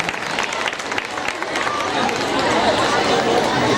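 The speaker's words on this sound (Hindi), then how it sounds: "जोरदार तालियां।" Loud, dense applause from a crowd at a school annual function, filling the whole stretch and swelling slightly toward the end, with voices mixed into the clapping.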